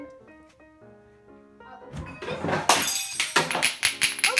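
A glass breaks in a home kitchen while making pudding, a sudden loud shatter after quiet beeping tones, followed by several sharp clinks and tinkling shards settling over a few seconds.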